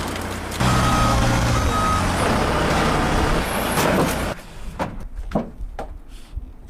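Forklift rated for 6,000 pounds moving with loud repeated reversing beeps over a droning engine, then the engine cuts back and quieter clunks and movement sounds follow.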